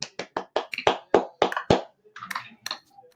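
A small group of people clapping in a podcast setting, a quick run of sharp, separate claps at first that thin out into scattered, softer ones toward the end, fairly close and alone.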